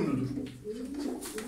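A tumbler pigeon, a female of the Turkish playing-bird kind, gives soft low coos close by, with faint background noise.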